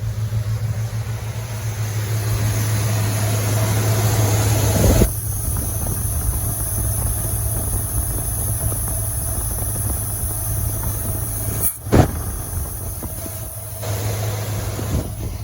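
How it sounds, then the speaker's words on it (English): A Buick-powered C20 Suburban with a Quadrajet carburetor idles low and steady, a constant close engine drone with a brief clunk and shift near the end and no voices. "the idle's a little bit lower now"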